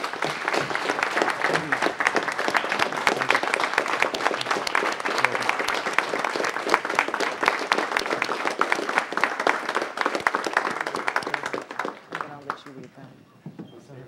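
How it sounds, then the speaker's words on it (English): A council-meeting audience applauds a Marine veteran honored for service in Operation Iraqi Freedom, steady dense clapping that holds loud for about twelve seconds before thinning and fading out. "So now everybody may applaud him."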